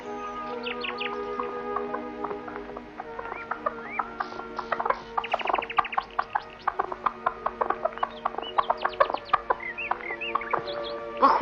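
A chicken-like bird clucks in a series of sharp, rapid calls that grow busier and denser, close and clear against quiet surroundings.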